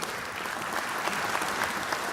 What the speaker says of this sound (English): I'll call them all, then we'll clap again.